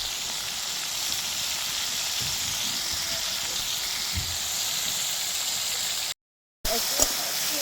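Shrimp rubbed with salt and turmeric fry in hot oil in a kadai, giving a steady, even sizzling hiss throughout with one short break near the end.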